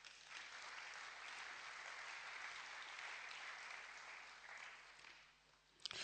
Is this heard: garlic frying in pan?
no